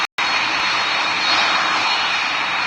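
Airliner taxiing in a flight simulator game, a steady loud engine whine and roar that fills the whole clip after a brief cut at the start, with no talk.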